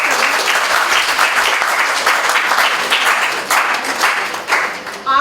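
A workshop audience gives a sustained burst of loud applause, many hands clapping densely for several seconds before it starts to thin out.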